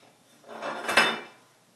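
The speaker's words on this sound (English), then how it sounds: "Now, we'll remove it from our pan." A fresh fruit tart is lifted out of a metal tart pan with a removable bottom, giving one brief scraping rustle that builds into a single clinking metallic clatter near the middle, then fades.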